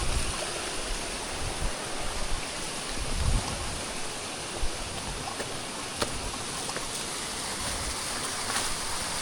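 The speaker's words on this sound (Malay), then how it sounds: "Kau boleh nampak kan, tu air terjun dia" Akar waterfall on Gunung Tahan pours steadily through the jungle, a dense continuous rushing of water heard up close with no voices over it.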